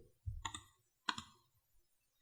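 Two quick key presses on a computer keyboard for the Ctrl G shortcut, close and fairly quiet, a pair of short clicks about half a second apart followed by near silence.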